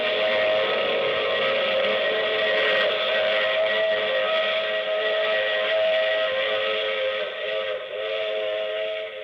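A loud, sustained train whistle blows continuously over the rumble of a moving train, holding steady for the whole stretch.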